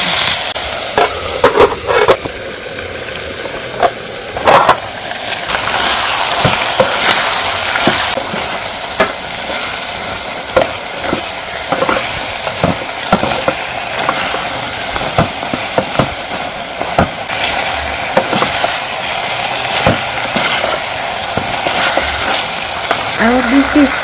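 Tomatoes soften in a covered pot over a cooking fire, with a loud, steady sizzle and bubbling broken by occasional clatters and scrapes from the pot and lid.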